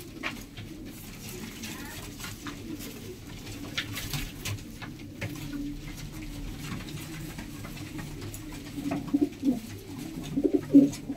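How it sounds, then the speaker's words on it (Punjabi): Domestic pigeons at a breeder's loft coo repeatedly in low, soft, rolling calls, growing louder toward the end, with people talking faintly in the background. "ਬਹੁਤ ਅੱਛੇ ਕਬੂਤਰ ਨੇ"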